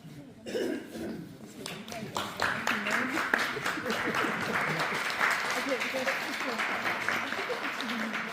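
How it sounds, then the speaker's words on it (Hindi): Audience applause at a first-generation community event with Radio Humwatan, a broad steady wash of clapping running the full length, with a few coughs and murmurs mixed in. "अपनी तालियां ना उसमें दीजिए।"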